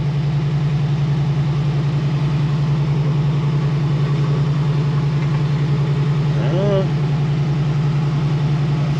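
A 1966 Ford F100 engine idles steadily with a strong, constant low hum throughout, running alone at close range with no talk.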